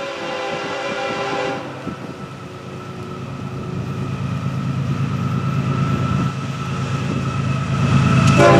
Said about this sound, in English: take a look at the hot train FEC105 right now